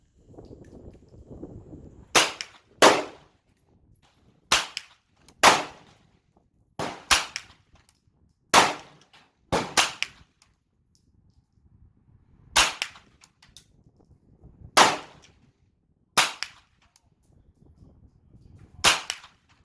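Gunshots from a WASR M 9mm firearm at an outdoor shooting range, fired with open sights at 50 to 100 yards: about a dozen sharp, loud cracks in uneven clusters with short quiet gaps between them.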